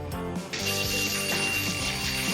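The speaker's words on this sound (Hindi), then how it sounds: "fire alarm" Fire alarm in the Avatar World video game, a continuous loud mechanical ringing with a rapid rattling pulse that starts abruptly and holds steady.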